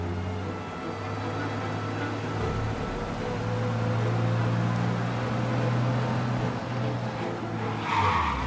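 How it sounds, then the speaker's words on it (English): Car tires skidding during a police chase in the video game Mafia, a sustained screech over a steady engine drone lasting the whole stretch, loud and up front with no talk. "You lose them by driving real fast and getting clear of them."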